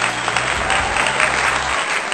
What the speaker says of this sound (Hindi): लेकिन मैं तुम्हारे लिए ताली बजाता हूं